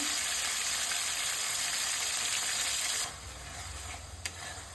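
Chopped tomatoes sizzle loudly in hot mustard oil with cumin and sugar for ghugni, a steady bright hiss that drops to a quieter crackle partway through, with a brief clink near the end.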